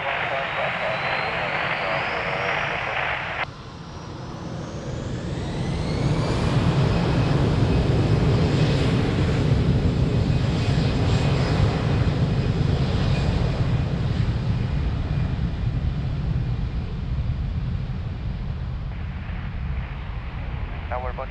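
An airliner takes off from runway 02 at Lisbon Airport, its engines swelling from a brief lull into a loud, sustained roar that holds steady before thinning slightly, with radio voices heard at the start.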